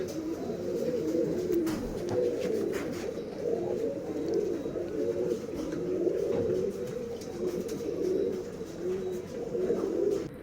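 Several Girebaaz male pigeons cooing continuously at close range, overlapping low throaty coos rolling on without pause, with faint background noise and no talk.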